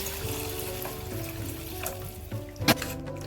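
Hot water poured into a simmering Marathi curry in a home kitchen, a short close splash and trickle with a brief louder gush near the end.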